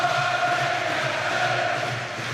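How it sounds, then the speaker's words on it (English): Boxing arena crowd at the Ricky Hatton vs Vyacheslav Senchenko fight, a steady, dense roar of many voices filling the hall, continuous and fairly loud with no clear breaks. "Listen to the crowd now, Ian, really trying to lift their Manhattan."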